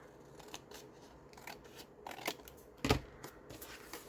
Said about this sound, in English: And we'll cut off here.